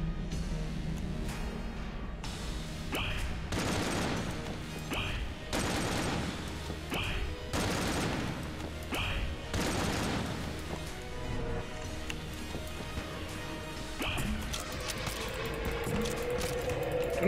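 Bullets fired in Enter the Gungeon come in repeated bursts, roughly every second or two, over steady game sound, with a short pause before one more volley near the end.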